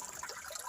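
Children drawing water at a village spring, with a steady soft gush and trickle of flowing water, quiet and continuous, with no voices.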